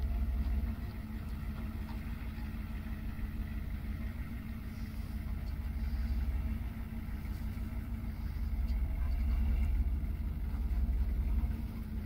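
A Ford truck with an IDI diesel engine runs steadily at a low, even idle-like rumble while pulling down a mobile home, heard close and continuous with no talk.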